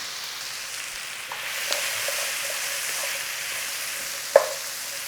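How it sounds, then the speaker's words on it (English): Steady, close sizzle of food frying in a wok for a hearty soup, with a soft stirring clatter throughout and one sharp metallic clack near the end. "Now I'm cooking in a wok"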